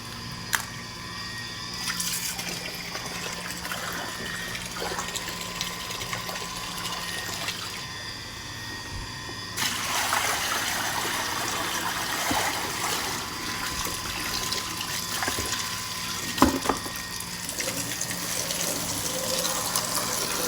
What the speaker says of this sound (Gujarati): હવે ચોખ્ખું થોડું થોડું પાણી આવવા માંડ્યું